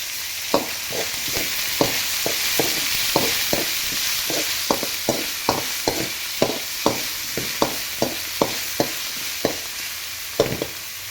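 Onion and tomato fry in a pan with a steady hiss under a regular series of sharp scraping clicks, about two per second, as a spatula stirs them close by.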